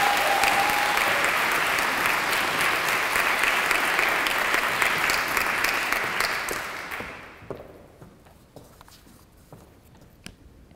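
A chapel audience applauds to welcome alumna speaker Kyra Rice Duffley, sustained loud clapping from a crowd for several seconds that dies down to a few scattered claps and shuffling footsteps.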